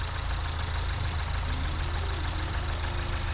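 A Mini car engine idles with its oil light on, producing a steady, loud low rumble with a faint knocking pulse and no revving, heard up close throughout.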